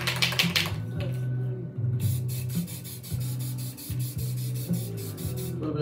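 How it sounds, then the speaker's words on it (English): A spray paint can sprays white paint in short hissing bursts, several spurts broken by brief pauses, close and fairly loud, with no talking. "A little bit of spray there for that."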